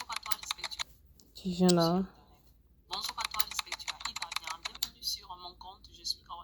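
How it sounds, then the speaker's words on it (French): Fast computer keyboard typing clicks away in steady clattering bursts, close and clear, broken by a short spoken phrase and a brief pause before the keystrokes resume; used as an editing sound effect. "Keyboard typing."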